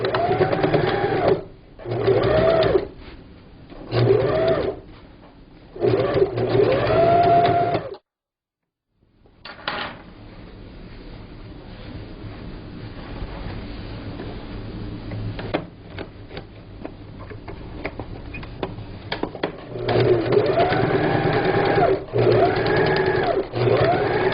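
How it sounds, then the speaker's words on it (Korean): Sewing machine stitching a table cover, close bursts of rapid mechanical whirring broken by short pauses, a quieter stretch of light handling noise in the middle, then more stitching bursts. "이렇게 표시한 안쪽으로 박음질 하시면 됩니다."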